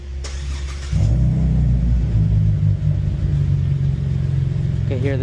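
A 2016 Cadillac ATS-V sedan with a ZZP intake and tune starts up, its engine catching with a sharp burst and settling into a loud, close, throaty rumble that holds steady.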